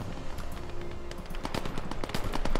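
Gunfire in a World War II-era tank video game, rapid bursts of sharp shots and machine-gun rattle over a rumbling background, fairly close and loud.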